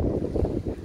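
Strong wind gusting at Barwon Heads beach, rumbling and buffeting the microphone in low, uneven surges over a brief moment, with faint surf behind it.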